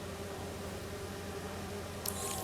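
Bees buzz in a steady, continuous drone in the Spider-Man 2 video game on PS5, with a low hum filling the background and no speech.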